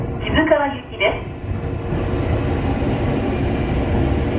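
Ohmi Railway train pulling into Yokaichi station, a steady low rumble of wheels and motors that holds through the clip after a station announcement voice at the start.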